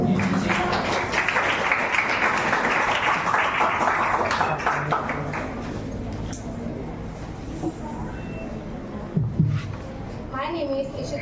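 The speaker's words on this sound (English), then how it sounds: "So please give her a round of applause." An audience at a school science day celebration applauds, a dense burst of clapping that is loud at first and then fades into scattered claps and room noise, with a voice speaking.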